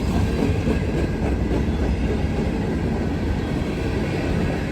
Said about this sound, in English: I don't know what train this is. I just pulled in here.